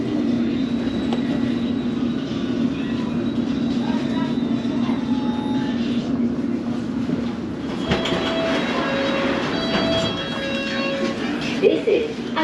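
A London Underground train rumbles steadily along the track and slows as it pulls into the Amersham terminus. Brief squeals and clunks come near the end.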